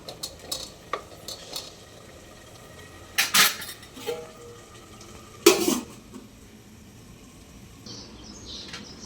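Mutton gravy being stirred in a cooking pot: scattered metallic scrapes and clinks of a spoon against the metal, with two sharper clanks as a lid is set in place, close and moderately loud.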